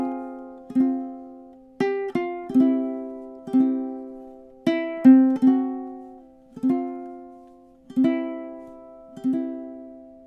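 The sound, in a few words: ukulele strumming chords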